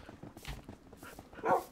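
Dogs in the Minecraft video game barking, a few short close barks with one louder bark near the end over quiet game sounds.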